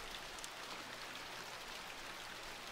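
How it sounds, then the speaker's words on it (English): Gentle, steady rain falling on ground, leaves and rooftops, a soft, even hiss of patter with no other sounds. "Raindrops fall gently around you, creating a gentle rhythmic sound on the ground, leaves, and rooftops."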